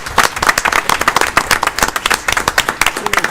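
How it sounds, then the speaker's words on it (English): A round of applause at a Tennessee Real Estate Commission board meeting honours a retiring member, with dense, close hand clapping from a modest group that rises and pulses steadily throughout. "So we're going to give you a round of applause with you here now."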